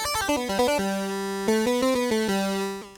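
A single-voice synth lead plays a quick run of notes, then holds a long tone before another short melodic phrase, bright and buzzy.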